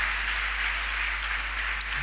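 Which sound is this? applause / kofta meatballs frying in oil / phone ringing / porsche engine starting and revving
applause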